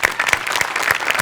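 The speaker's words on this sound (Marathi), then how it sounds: "जोरदार टाळी आपण त्यांचं स्वागत करूया." An audience breaks into loud applause to welcome a guest at a seminar, dense clapping with sharp individual claps standing out, close and sustained throughout.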